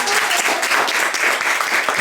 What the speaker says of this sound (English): So one applause for Elina.